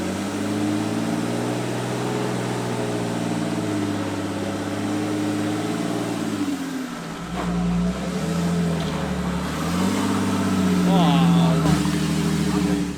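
A 4WD driving up a rough off-road track, its engine droning loudly and steadily, then dipping and revving again as it climbs, with voices talking over it.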